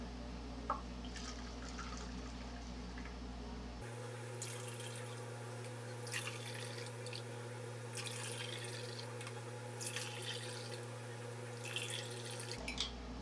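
Lemonade poured into popsicle molds in a home kitchen, a soft trickling liquid stream over a low steady hum, quiet and close, with no talk.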